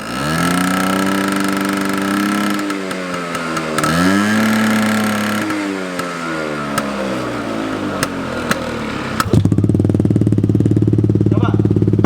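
A motorcycle with a loud aftermarket exhaust revs repeatedly up and down close by, its engine pitch rising and falling in long sweeps before settling into a rough, throbbing idle.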